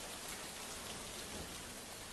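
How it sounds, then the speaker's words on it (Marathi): Dense, steady downpour of heavy monsoon rain in Mumbai hisses evenly throughout, with no voices. "मुंबईसह राज्यात मुसळधार पावसाने हाहाकार केलेला आहे"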